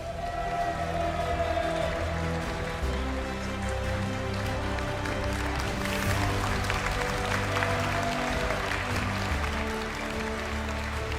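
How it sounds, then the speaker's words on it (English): Crowd applause at the Pokémon Utrecht Regional Championships honoring the regional winner, a steady broad clapping roar filling the hall for the whole stretch, with faint music or tones underneath. "give a big applause for your Utrecht regional winner, Nether Beethan"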